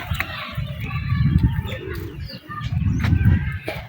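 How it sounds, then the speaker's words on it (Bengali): Pigeons perched on a rooftop coo in low, throaty, repeated rolls that come close and fairly loud, with faint background noise and no speech. "এই ছাদের উপর কবুতরগুলো আসছে"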